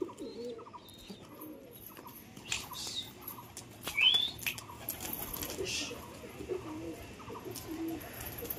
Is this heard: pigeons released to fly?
yes